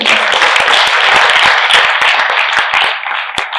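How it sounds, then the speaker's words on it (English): An audience at an ICAI leadership event claps loudly and steadily, with distinct individual claps cutting through the dense applause, close and continuous. "Big round of applause to Swaminathan."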